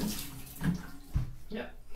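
Water runs into a bathtub, rinsing RIT dye out of an Ikea Markus chair's fabric, a close splashing flow that surges in a few bursts.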